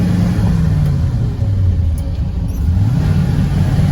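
Old grain truck hauling a load of corn, its engine giving a steady low rumble with slight shifts in pitch as it drives, close and loud with no talking.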